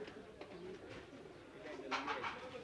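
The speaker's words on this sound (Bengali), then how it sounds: "এখানে পাঁচটা কবুতর আছে" Soft cooing of pigeons close by at a pigeon market in Saroliya, Bangladesh, low murmuring calls repeating under a faint background hiss.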